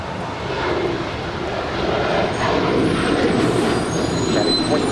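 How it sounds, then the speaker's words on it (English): A United Boeing 737-900ER jet taking off from runway 25 right at Los Angeles International Airport, a steady loud roar of jet engines that swells slightly and holds for the whole stretch. "that is United 2025 heading to Phoenix, Arizona, 737-900 ER"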